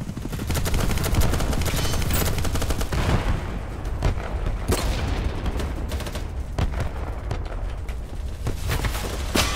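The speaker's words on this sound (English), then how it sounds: "A lot of machine gun fire." Sustained machine gun fire in the BattleBit Remastered video game rattles loudly and close, long automatic bursts overlapping with other gunshots and booming impacts across the whole stretch, with no talking.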